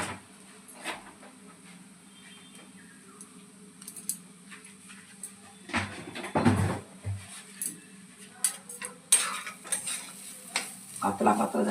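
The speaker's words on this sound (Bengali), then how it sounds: "ঘিতে ভাজলাম, দেখলেন কীরকমভাবে ভাজলাম।" Grated carrot fries in ghee in a pan, with a soft sizzle under repeated stirring and the scraping clatter of a utensil against the pan, growing busier toward the end.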